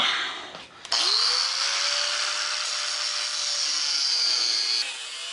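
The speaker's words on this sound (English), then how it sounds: "see if we can cut through that bolt now" A power tool, probably a cutting tool, spins up and bites through a bolt on a Suzuki GS850 motorcycle to remove the sissy bar, a loud, steady, high whine held for several seconds before winding down.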